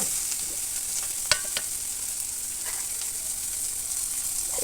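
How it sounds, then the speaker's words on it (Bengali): Vegetables fry in a pan with turmeric and chili powder under a steady hiss, broken by a few light spatula knocks while the mixture is stirred. "এবার দিয়ে আমি কিছুক্ষণ এটা নাড়াচাড়া করে আরও কিছুক্ষণ কষিয়ে নিলাম"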